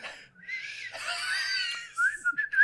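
A person whistles in imitation of Yondu's signature whistle from Guardians of the Galaxy, a wavering, sliding tone that rises and falls, ending in short sharp upward chirps.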